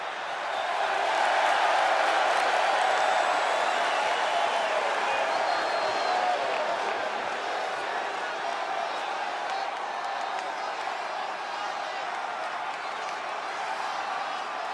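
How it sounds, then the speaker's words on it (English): A large wrestling arena crowd in WWE 2K24 roars, cheers and applauds continuously, a broad steady din of many voices and clapping that holds at an even level from start to finish. "And just listen to that crowd."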